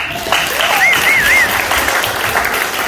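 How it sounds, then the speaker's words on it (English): Audience at a Knox Freedom Family gathering breaks into loud, dense applause that fills the room, with a few rising whistles cutting through over the clapping. "Can you guys give yourselves a round of applause?"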